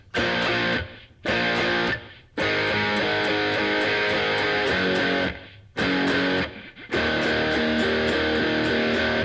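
Heavily distorted electric guitar power chords from the pre-chorus of a song ring out loud, broken by short muted gaps where the strumming briefly stops, then crashing back in.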